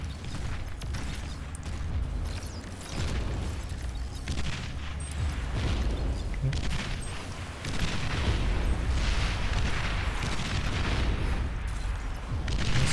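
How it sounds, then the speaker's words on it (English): Artillery barrages from the real-time strategy game Beyond All Reason: a dense, continuous wash of booms and rumbling blasts, loud and sustained, with no one speaking. "I now see the first shot of the artillery"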